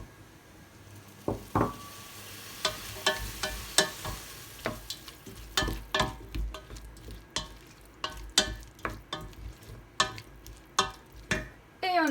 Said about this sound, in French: On ajoute les oignons, on continue à mélanger, on ajoute nos pois chiches